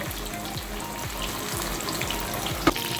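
Green masala fish frying in a pan of oil, giving a steady, even sizzle with faint crackles and one brief louder pop, heard close with no talking.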